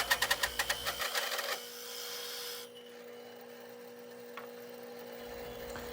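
A 2.5-inch hole saw spinning fast bores through 3/4-inch plywood in a workshop, opening with a rapid pulsing burst of cutting that drops into a steadier whine and then a low fading hum.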